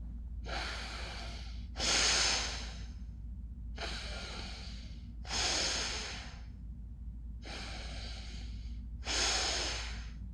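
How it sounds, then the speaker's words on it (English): Deep, slow breathing by a person in a prostration position, head and nose on the ground, with loud, close alternating inhales and exhales in a steady cycle of about six breaths and no talking. "you deep breathe, inhale and exhale like this"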